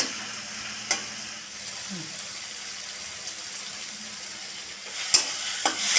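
Tomatoes with spices fry and sizzle steadily in a pan for fish curry, a constant hiss broken by a few sharp clinks of a spatula against the metal.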